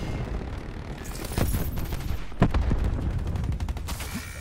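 Gunfire in the video game Call of Duty: Black Ops 4, a dense run of rapid automatic shots and sharp cracks with a couple of heavier bangs, loud and continuous with no talk over it.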